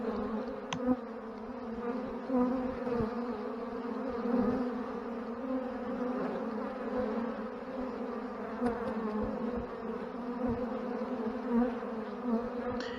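Honeybees from a strong Ohio hive hum continuously around the landing board in early spring, a dense, steady buzz of many insects close by, with no voices.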